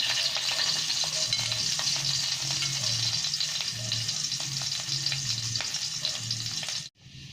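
Garlic sizzles in a hot pan as it sautés for ginisang ampalaya with salted egg, a steady close frying hiss with light stirring scrapes, cutting off abruptly near the end.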